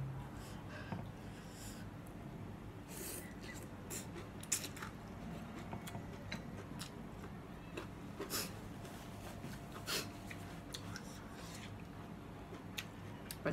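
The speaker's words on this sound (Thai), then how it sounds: "หมูเคี้ยวยาก แต่ไม่เชิงยากหรอกว่าความหมายคือเนื้อมันเยอะ" Close, faint chewing of pork from a pork noodle soup eaten with grilled chilies dipped in shrimp paste, with soft irregular wet clicks and bites over a steady low background hum and no speech.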